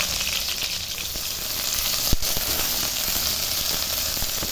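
Chopped onion sizzles in hot mustard oil with cumin and dried red chillies, a steady close hiss of frying with a few soft clicks and stirring taps, and no talk.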